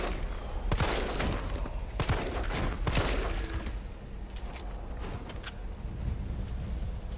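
Gunfire in the video game Resident Evil 3 Nemesis: several sharp shots crack in quick succession early on, then the scene settles into a low, steady background rumble.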